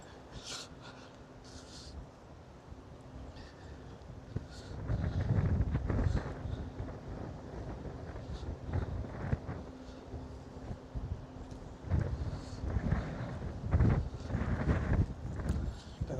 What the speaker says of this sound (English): Here is still windy.